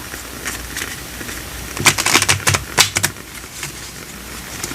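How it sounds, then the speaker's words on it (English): Soft background hiss, then a quick flurry of papery flicks and taps as stiff homemade cardstock tarot cards are shuffled, up close, before it settles again. "These are a little bit difficult to shuffle because I printed these at home on just some cardstock"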